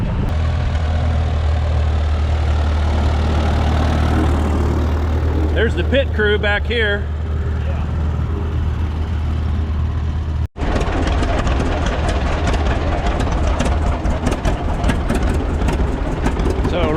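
A heavy tractor engine idles steadily with a deep low rumble while waiting in line to weigh in, people talking nearby over it throughout.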